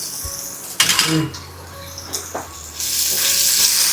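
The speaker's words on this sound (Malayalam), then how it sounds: "ഇതിലേക്ക് ഒരു 5-6 വെളുത്തുള്ളി അല്ലികൾ നീളത്തിൽ അരിഞ്ഞെടുത്തതും ഒരു 5-6 ചെറിയ ഉള്ളി നീളത്തിൽ അരിഞ്ഞെടുത്തതും കൂടെ ചേർത്ത് കൊടുത്ത് ഒന്ന് മൂപ്പിച്ചെടുക്കാം" Sliced garlic and shallots frying in hot oil in a pan, a soft sizzle with a few stirring clinks and a louder hiss rising toward the end.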